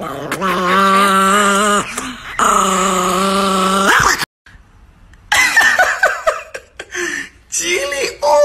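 A Chihuahua growls in long, harmonically rich, snarling bursts up close, broken by a short pause and then choppier yips and grumbles, with a person's voice mixed in.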